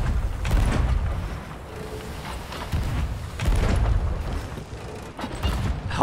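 Cannons fire and burst during a pirate ship battle in a video game: several heavy booms spaced a few seconds apart, mixed with the creaking of ship timbers and mechanisms.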